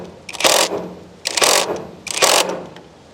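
A power driver whirs in three short bursts as Torx screws are driven into a 4x4 wooden post to mount a security camera, each burst loud and close with brief pauses between.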